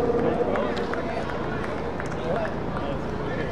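Steady applause and crowd noise from cricket spectators after a catch at a match, a dense continuous clatter of clapping with a general hubbub underneath, holding at an even level throughout.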